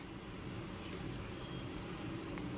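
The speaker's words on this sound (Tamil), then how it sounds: "இப்போ இதுக்கு தேவையான அளவு தண்ணி சேர்த்துக்கலாம்." Water is poured into beef masala while preparing kari vadai, a faint, continuous soft trickle and splash heard close by in a quiet kitchen, with no voices.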